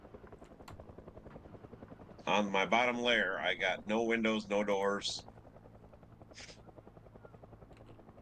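A helicopter in Project Zomboid gives a steady pulsing rotor chop throughout, moderately loud, while someone talks over it for a few seconds.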